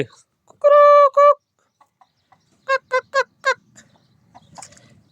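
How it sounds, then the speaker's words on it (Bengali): A native country rooster clucking nearby, one long drawn-out call followed by a run of four short clucks, loud and clear over a quiet yard, with faint stray sounds after. "এই যে এখান দিয়ে দেশি মোরগ আছে"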